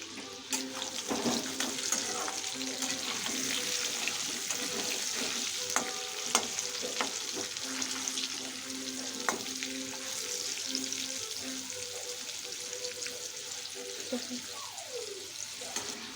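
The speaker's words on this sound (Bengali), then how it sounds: "আলুগুলো লাল লাল করে ভাজা হয়ে গেছে," Potatoes seasoned with salt and turmeric fry in hot oil with a steady, continuous sizzle throughout, alongside occasional stirring clinks and a voice speaking in the background.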